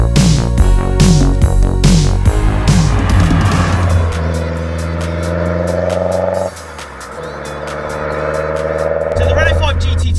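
A 1990s Renault 5 GT Turbo phase 2 hot hatch with a 1.4-litre turbocharged engine, driven hard: loud, close engine note rising through the gears, with clear shifts and revving, under a voice.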